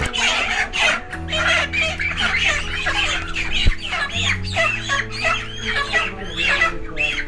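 Dense chorus of month-old broiler chickens clucking continuously inside a poultry farm shed, many birds overlapping at steady loudness, with a low steady hum from farm equipment underneath.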